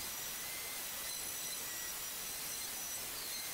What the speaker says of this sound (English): I move back to the orbital sander to give a better finish.